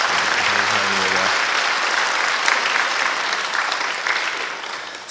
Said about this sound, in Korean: 우리 뜨거운 박수를 환영하겠습니다